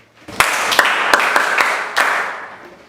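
Schoolchildren in a classroom applaud a classmate named Bernard, a close burst of rapid clapping with several sharp, rhythmic accented claps before it fades out.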